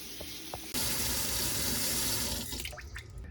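Tap water in an apartment bathroom sink gushes on abruptly after a quiet moment and rushes steadily down the drain, loud and close, then thins and splutters toward the end.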